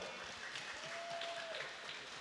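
Guests at a family 85th birthday party clap in a faint, distant, steady wash of applause with a thin tone drifting above it.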